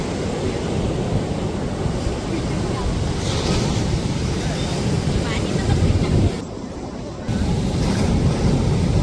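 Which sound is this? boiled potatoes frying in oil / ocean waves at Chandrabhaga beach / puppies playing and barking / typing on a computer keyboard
ocean waves at Chandrabhaga beach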